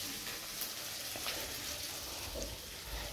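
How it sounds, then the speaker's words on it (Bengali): Okra frying in a pan for breakfast gives a faint, steady sizzle with small crackles, close by and without talk. "আমাদের ব্রেকফাস্টের জন্য ভেন্ডি ভাজাটা বসিয়ে দিয়েছি।"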